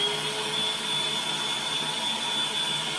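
A Bosch GAS 18V 10L cordless wet/dry vacuum runs steadily, a moderately loud even whirring drone with a thin high motor whine on top, no voices present.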